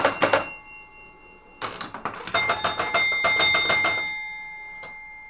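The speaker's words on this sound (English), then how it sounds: "But the bells make up for that quiet, because the bells are loud." An electromechanical pinball machine's loud bells ring in clusters of rapid strikes separated by a brief gap, with sustained ringing tones decaying after each burst.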